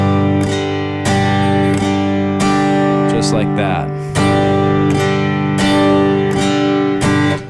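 An acoustic guitar is strummed with sharp, accented downstrokes in a lesson on a song. Ringing chords sound between the strikes, a few spaced hits land close and loud, and someone speaks briefly midway.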